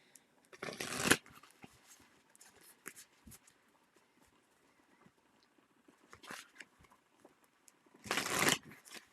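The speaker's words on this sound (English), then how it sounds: "concentrate on the cards while I am shuffling" Tarot cards are shuffled at a live reading, two short bursts of riffling paper rustle near the start and end, with faint soft handling sounds in between, fairly quiet and close.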